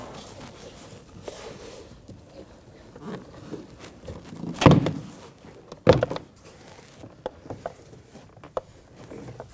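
Scraping and rustling handling noises with a couple of sharp plastic pops and snaps partway through as a door panel is pried off a Nissan Armada, moderately close, no talking.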